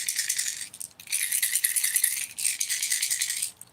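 A fishing lure rattle, the loudest of several baits compared, shaken in bursts: three bright, dense rattling spells separated by brief pauses, close and alone.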